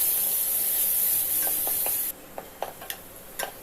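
Ground masala frying with onions in oil gives a loud, steady sizzle for about two seconds, then drops to a quieter sizzle with a few sharp ticks and stirring clinks close by.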